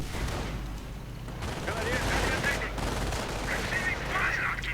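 Machine gun fire rattles through a strategy video game battle, a dense, continuous crackle of gunshots with sharp bursts layered over a steady din.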